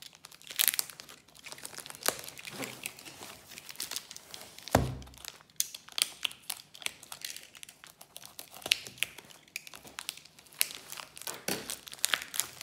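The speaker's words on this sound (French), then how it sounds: "Allez, on déballe tout ça." Diamond painting kits unpacked from their packaging, close crinkling and rustling plastic and paper with occasional thunks and tearing, irregular and fairly quiet.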